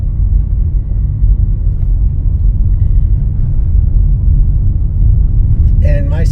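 Car climbing the Sidewinder, a steep mountain road where people live, driven slowly and carefully: a steady low engine and road rumble holding throughout, close and continuous, with a brief higher whine near the end.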